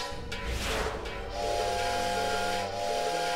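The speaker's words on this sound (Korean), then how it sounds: "덜그덕 소리가 너무나 거슬리는 주전자" A steady boiling hiss with a kettle lid clattering and rattling continuously, fairly close, with no one speaking.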